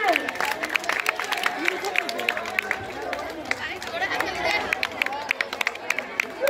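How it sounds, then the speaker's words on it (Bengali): An audience at a school annual sports event claps in scattered bursts amid crowd chatter and running feet, with a voice speaking over the noise. "একটু জোরে হাততালি দিন"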